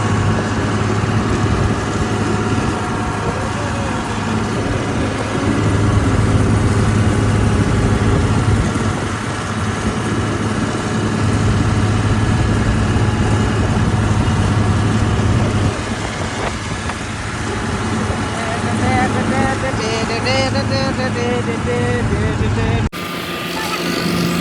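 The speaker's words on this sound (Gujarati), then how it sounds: "તો જુઓ ટ્રેક્ટર કેટલું જાય છે" A tractor engine drones steadily while driving toward farm fields, a low continuous rumble with rising and falling load and a voice talking over it near the end.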